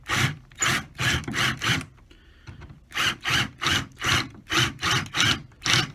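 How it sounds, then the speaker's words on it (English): A drill bit countersinks holes in a Crockett and Jones shoe during a full sole and heel repair, giving about a dozen close, rhythmic rasping strokes with a brief pause partway through. "you're just going to countersink the holes to make them slightly bigger"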